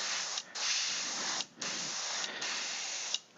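An airbrush sprays paint onto a GodTear dragon miniature in a steady, close hiss broken by three brief pauses as the trigger is released.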